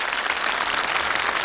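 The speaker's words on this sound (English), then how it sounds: "Another round of applause, please, for our top 5 finalists." Dense, loud applause from a pageant audience cheering the top five finalists, a continuous wash of clapping without a break for its brief length.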